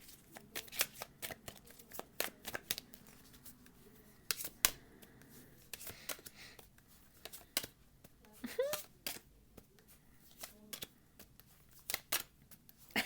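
Tarot cards are shuffled by hand in a quiet room, a long run of soft, crisp riffling flicks and taps, irregular and close, no talking.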